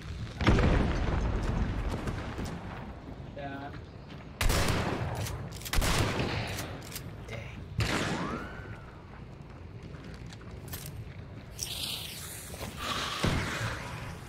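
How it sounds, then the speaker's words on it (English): A thrown stick of dynamite explodes in the video game Hunt: Showdown, a loud boom among a flurry of gunfire and blasts, with sharp bursts recurring through the scene and dense mid-game noise between them. "They threw a dynamite inside."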